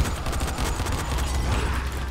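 Rapid bursts of gunfire crackle in quick succession, dense and continuous, like a steady stream of shots from close range.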